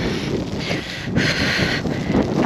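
Strong wind gusting outdoors on a mild day in Finland, a steady roaring rush buffeting the microphone with surging gusts throughout, no voices.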